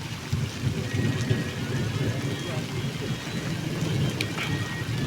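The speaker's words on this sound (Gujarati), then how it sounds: "અત્યારે વરસાદ ચાલુ થઈ ગયો" Steady unseasonal summer rain hisses over a low rumbling background, with voices talking intermittently beneath the downpour.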